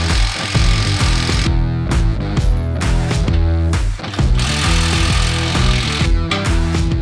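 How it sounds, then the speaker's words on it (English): Loud rattling impact-wrench bursts back skid plate bracket bolts off a 2021+ Ford Bronco with a 15mm socket, several hammering runs with short pauses between them, close and alone. "we're going to go ahead and remove these two bolts"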